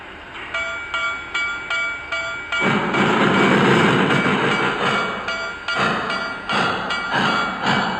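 A Lionel Vision Line Niagara model locomotive's wheel slip sound effect plays with rhythmic chuffing and pulsing bursts, a harsher rushing stretch in the middle, and bell-like tones early on.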